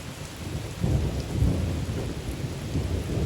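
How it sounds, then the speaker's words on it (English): Rain pours steadily while low thunder rumbles in waves, growing louder after a moment and lingering in the distance. "Thunder."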